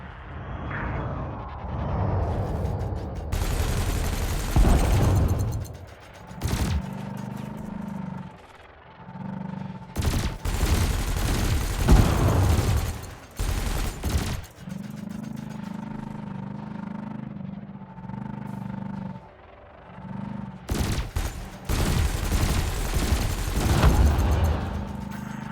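Spaceship cannon shots and laser bursts in the Elite Dangerous game, fired in repeated loud volleys several seconds long with short pauses between them, over a low steady engine hum.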